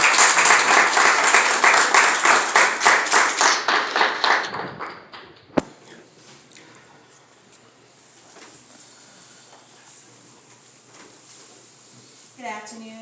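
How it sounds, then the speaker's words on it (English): Applause and hand clapping from guests at a clergy council holiday brunch, loud and dense for about four seconds, then fading into quiet room noise with a brief clatter near the end. "Let's give them a hand clap."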